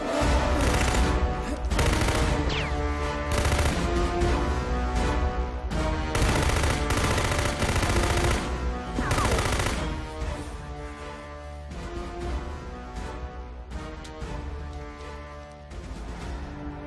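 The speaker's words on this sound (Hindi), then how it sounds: "सुन नूरा, ये गन है, नीचे बैठ।" Sustained gunfire in a wartime drama, a continuous dense roar of rapid shots and blasts that stays loud throughout and fades slightly near the end.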